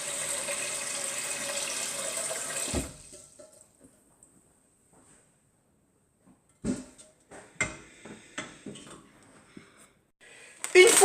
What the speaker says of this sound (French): En tout cas, nous remplissons et ensuite je vais pouvoir faire chauffer l'eau.